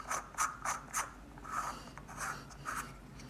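A lens assembly being screwed onto a helical focuser for an astronomy guiding cube, heard as a series of soft, rhythmic close rubbing and scraping strokes, each about a quarter second, quiet with no talking.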